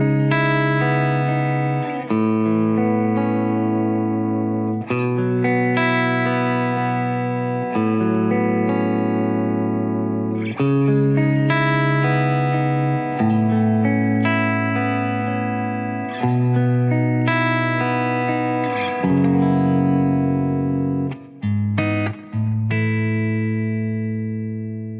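An electric guitar plays sustained, distorted chords through an Amplified Nation Overdrive Reverb pedal into a Red Seven Amp Central Evo load box. The playing is loud and continuous, with a few short breaks between phrases and no talking.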